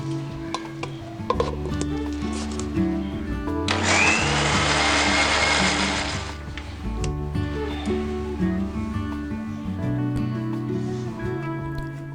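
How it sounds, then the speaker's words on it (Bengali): A kitchen mixer grinder whirs loudly for about three seconds as it blends coriander leaves, garlic and green chillies into a paste, rising abruptly over steady background music and then cutting off. "ধনে পাতা, রসুন এবং কাঁচা লঙ্কা দিয়ে ভালো করে মিক্সারে পেস্টটা বানিয়ে নিন"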